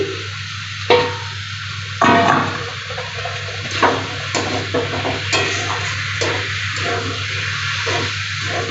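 Long-cut potato pieces drop into hot oil in a pan and get stirred for a spicy curry. A few sharp clatters and scrapes ring over a constant sizzle and a low, steady hum.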